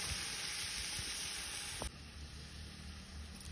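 Onion frying in a pan over a village wood-fired stove, a steady broadband sizzle with a brief clink near the middle, close and continuous with no talking.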